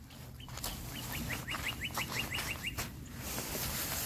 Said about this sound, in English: Or the birds tweeting. What a welcome sound.